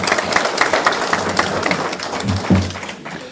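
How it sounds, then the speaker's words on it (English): Applause from an audience at a ministerial regional business engagement in Namibia's Erongo region, steady dense clapping at moderate volume with a few low tonal bits near the end. "Can we give another round of applause, please?"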